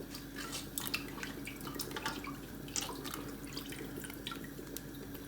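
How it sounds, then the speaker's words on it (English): Running water from a faucet splashes and drips steadily into a sink, with small clatters as bitter gourd is rinsed under the stream. "I'm going to wash the Bittergourd or Karela"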